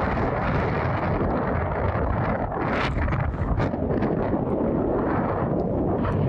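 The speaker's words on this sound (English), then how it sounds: "I'm not sure you can hear anything because it's so windy." Strong side wind buffets the microphone while cycling in the Netherlands, a constant loud roar with rumbling gusts throughout, no other sounds standing out.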